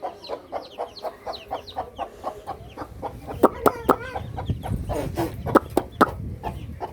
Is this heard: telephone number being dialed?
no